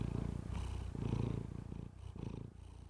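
Henrietta the cat purrs on a mixing desk, a close, loud, steady rhythmic rumble broken into breathing cycles with short pauses between them.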